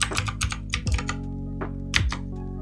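Keys tapped on a computer keyboard while typing a file name, a few short bursts of quick clicks with pauses between, close and moderately loud over a steady low hum.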